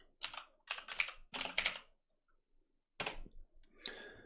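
A command being typed on a computer keyboard in a Linux terminal, with close, crisp bursts of quick key clicks separated by short pauses. A final keystroke lands alone near the end.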